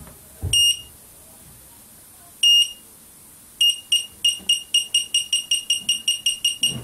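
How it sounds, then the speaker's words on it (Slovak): A Seitron Gas Sniffer gas detector reacts to escaping gas with sharp electronic beeps: two single beeps, then a run of beeps that quickly grows faster and more insistent, close and clear over a quiet background. "sa zvýši aj intenzita pípania, takže aj podľa sluchu je možné zhodnotiť intenzitu prípadného úniku plynu"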